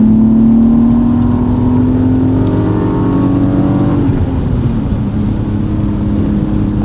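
A 1998 BMW E36 M3 sedan with an automatic transmission accelerates hard on kickdown, heard from inside the car. The engine gives a loud, steady roar whose pitch climbs, then eases and settles into a continuous drone.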